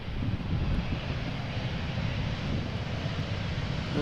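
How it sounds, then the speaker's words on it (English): A Delta Airbus A330-300 on arrival at Amsterdam Schiphol Airport in gusty crosswind gives a steady, broad engine roar that holds without a break, fairly distant and even in level. "Looks like a Delta A330 is flying from Atlanta today as flight 74."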